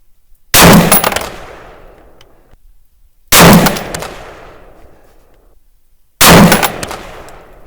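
Three loud, separate shots from an AR pistol firing .223 steel-cased rounds, each a sharp crack with a ringing decay, evenly spaced about three seconds apart and with no talk over them.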